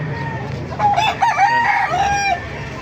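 A rooster crows once among gamefowl such as Hennie and SBR birds at the Baliuag market, a rising then held call of about a second and a half at moderate distance over steady crowd murmur.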